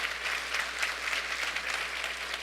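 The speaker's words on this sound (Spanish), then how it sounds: "Aplaudan todos, hermanos," A church congregation bursts into sustained applause, a dense, steady patter of many hands clapping together that fills the room without pause.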